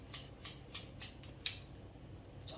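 Steel hair-cutting scissors snipping through thick hair at a salon, six crisp, evenly spaced close-up snips in a quick steady rhythm, then a short quiet pause.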